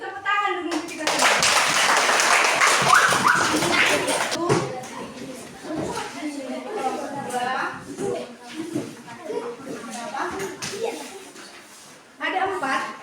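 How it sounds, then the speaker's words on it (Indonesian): Classroom of students applauding together, dense steady clapping for a few seconds, then fading into scattered chatter and shuffling as children settle, with a short burst of clapping again near the end. "Tepuk tangan dulu untuk kita semua."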